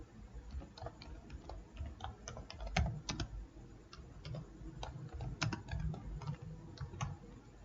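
Steady typing on a computer keyboard, a run of close, irregular key clicks with brief pauses while a paragraph is entered, no voices.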